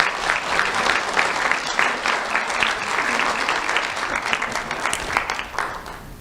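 An audience at a monthly awards ceremony gives a steady, fairly loud round of applause for an honoree, with dense clapping sustained throughout and a light murmur of voices underneath.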